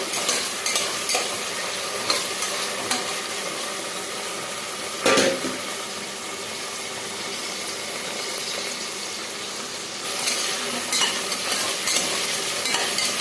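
Onion and tomato pieces frying in a pan produce a loud, dense sizzle that runs continuously, close-up, broken by a few sharp stirring scrapes and clinks and swelling noticeably near the end.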